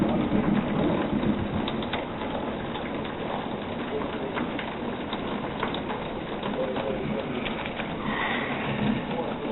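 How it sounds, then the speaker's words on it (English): Steady rain falls during a June thunderstorm with violent lightning, a continuous wash of noise heard from near a back door, with faint bird calls in the mix. "the lightning's getting more violent"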